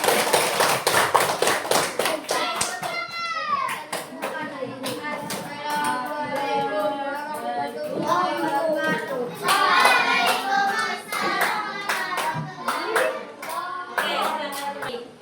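A classroom of students claps for a student group, crisp rapid hand claps loud at the start, then thinning as children's voices and chatter take over, with scattered claps returning near the end.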